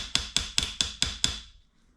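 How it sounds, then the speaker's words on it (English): A small hammer taps a tool into a stripped screw head with six sharp, evenly spaced strikes, close and clear, the last ringing out into quiet. "this little hammer's got a much better head on it, and we'll just kind of work it around"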